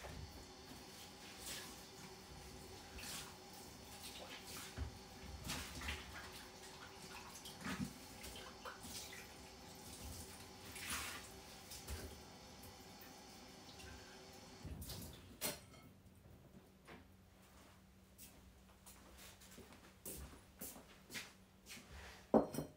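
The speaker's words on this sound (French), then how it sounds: "Je vais rincer le pichet." Water runs and splashes as a pitcher used for pouring enamel glaze is rinsed, an intermittent faint gush with small knocks and clatters, then a quieter, thinner trickle near the end.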